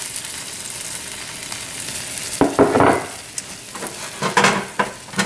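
Sliced lemongrass fries in a pan over a medium-high flame with a steady sizzle, and louder scraping bursts come as it is stirred.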